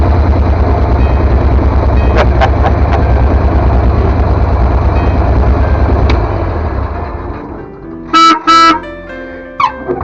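Engine of an old 1952 truck running loud and close with a heavy low rumble, then fading after several seconds into quieter sounds with a few high beeping tones near the end.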